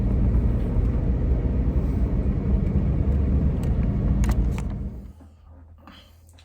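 A big truck passes on the road, a loud, steady low rumble that holds for about five seconds and then fades away quickly, leaving a quiet tail.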